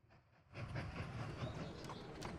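A train running in the railway-building video game Mashinky, a steady rolling rail sound with faint clickety-clack that rises after a quieter start and continues evenly, with no talking.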